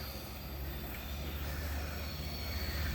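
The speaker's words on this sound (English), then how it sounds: "I think there's a train coming." A train passing in Glashütte, Germany, a steady low rumble with faint wheel squeal, moderately distant and continuous throughout.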